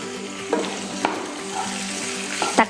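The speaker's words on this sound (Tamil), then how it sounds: "தக்காளியும் நல்லா வதங்கட்டும்." Tomatoes sizzle steadily in a hot pan while a utensil scrapes and stirs a few times, with light clinks against the pan.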